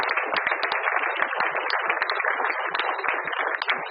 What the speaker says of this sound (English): But let's give a big round of applause.